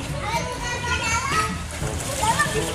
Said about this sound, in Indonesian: kita berenang dulu guys